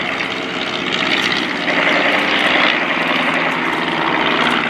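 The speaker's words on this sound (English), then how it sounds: "there's another Fokker triplane being pursued by a Royal Aircraft Factory SE5s" Fokker triplane and Royal Aircraft Factory SE5 biplane piston engines droning loudly and steadily as the WWI aircraft pass close overhead at an air display, a continuous propeller roar that swells slightly midway.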